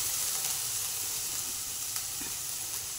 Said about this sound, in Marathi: आणि हे आपलं आलं, हिरवी मिरची आणि याचं वाटण हे टाकून घेऊ याच्यामध्ये। आणि असं परतून घेऊया।